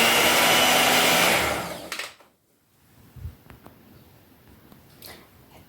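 A blender grinds date cake batter with a loud whirring roar for about two seconds, then stops, leaving faint clinks and small kitchen handling sounds.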